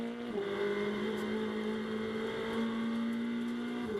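A Blancpain GT World Challenge America race car at Las Vegas Motor Speedway holds a steady engine drone that rises in pitch as it accelerates. The sound is continuous, moderately distant and sits under the broadcast mix.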